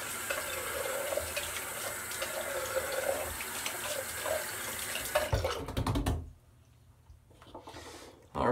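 A bathroom tap runs steadily into a sink while someone rinses off after a shave, the flow cutting off near the end, followed by quieter handling noises.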